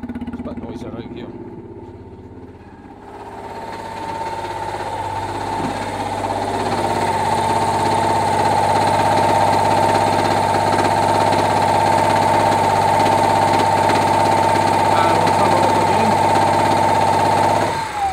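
A running DC generator putting out about 1.6 kilowatts drones loudly and continuously with a steady engine-like hum and vibration, rising in level after a few seconds and staying constant, close by.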